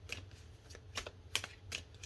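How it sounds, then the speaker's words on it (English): Tarot cards being shuffled by hand, a run of soft riffling flutters and crisp snaps repeating in quick bursts, close and fairly quiet over a low steady hum. "One more shuffle and see if I can do a good one this time"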